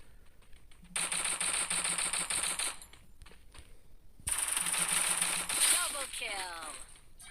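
Two bursts of rapid automatic gunfire in the video game Garena Free Fire, sharp and rattling, separated by a short pause, with a voice speaking faintly underneath.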